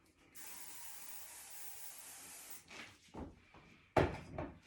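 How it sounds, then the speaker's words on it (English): A steady hiss of hairspray into a brush lasting a couple of seconds, followed by soft brushing and rustling handling noises in hair close by. "Just spray a little bit into the brush"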